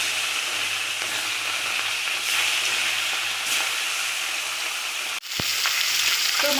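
Salt-and-turmeric coated fish frying in hot oil, a steady dense sizzle running throughout, briefly interrupted by a sharp cut near the end before the crackle resumes.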